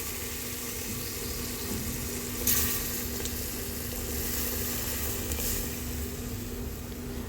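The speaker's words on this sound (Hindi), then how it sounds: "जब मिक्स हो जाएंगे तो फिर मैं मिसाले को अच्छे से भून लूँगी।" Masala frying in a clay pot for bhindi gosht, a steady low sizzle that holds throughout with a brief brighter crackle partway through.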